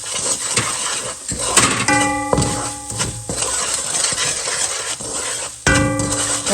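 Semolina and gram flour being lightly fried for moong dal halwa, with a utensil scraping and stirring against the pan in steady strokes, soft sizzling and a few metallic clinks, close by.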